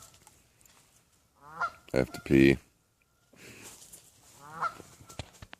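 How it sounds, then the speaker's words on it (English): A goose honks repeatedly outdoors in the early morning, with a loud burst of harsh calls followed by another call a few seconds later, while a person speaks nearby. "there's a goose out here. He won't shut up."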